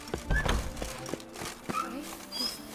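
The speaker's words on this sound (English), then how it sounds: "Even a horse drops if you ride it with a constant gallop." A horse in The Witcher 3 gallops with rhythmic clip-clop hoofbeats, accompanied by thuds and faint background game sounds, at moderate volume.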